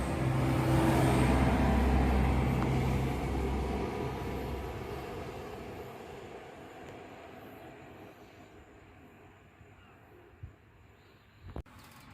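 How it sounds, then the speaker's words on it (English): The delayed 1751 Manchester Airport to Barrow-in-Furness passenger train rumbles past nearby, loud and low at first, then fades gradually into the distance, leaving a quiet lull broken by a couple of brief clicks. "Train passing now is delayed 1751 Manchester Airport to Barrow in Furness"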